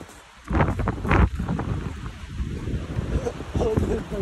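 Gusty wind buffets the microphone beside a mountain lake in cold, sideways mixed precipitation, a steady broadband roar with rumbling surges; voices can be heard speaking beneath it.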